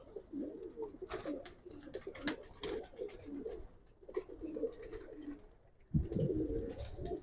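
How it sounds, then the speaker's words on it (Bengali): Giribaz pigeons cooing in a loft, a steady run of low throaty coos with scattered wing flaps and brief louder bursts, close by and with no talk. "আমার উড়তি কবুতর গুলো দেখেন"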